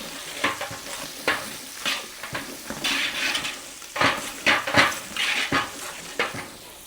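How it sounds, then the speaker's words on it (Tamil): Green chillies and dried red chillies sauté in hot oil for pumpkin sambar, sizzling steadily while a spoon scrapes and clatters against the pan in irregular strokes, close and fairly loud with no talking. "அதோட பச்சை மிளகாய் அப்படியே வதக்கி விடுவோம்."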